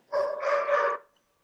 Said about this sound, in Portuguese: porque eu estou ouvindo um cachorro latindo.